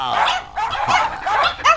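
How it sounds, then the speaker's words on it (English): Tiny cartoon teacup poodles from The Simpsons yap and yip in a rapid, high-pitched flurry of short barks, loud and close. "I had to replace my beloved hounds with teacup poodles"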